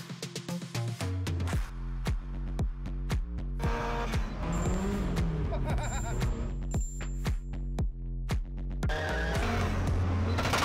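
A Nissan Silvia S14 with an SR20DET engine turns over on its starter in a garage, a loud, close mechanical drone with pulsing beats that runs through the whole stretch.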